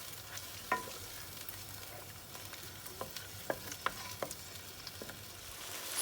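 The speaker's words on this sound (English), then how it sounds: "I'm just going to add 1 cup of water to the meat and then leave it to cook for about another 10 to 15 minutes on low flame" Mutton simmering in a pot on a low flame after a cup of water is added: a faint, steady bubbling sizzle with scattered small pops and clicks, quiet and close.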